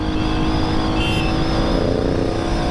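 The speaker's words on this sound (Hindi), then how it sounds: "अगर इंटरसेप्टर जाने लगेगी तो फिर वो बिना गियरिंग करते करते भाग जा रही है।" A Royal Enfield Interceptor 650 motorcycle accelerates hard in a steady, loud, continuous engine roar that pulls without a break, sounding close, with no voices over it.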